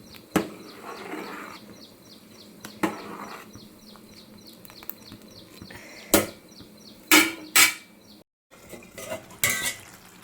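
Cooked rice being stirred in a metal pot for pulihora: intermittent sharp spoon scrapes and clanks against the pot over a low background hum, close by, with no talk.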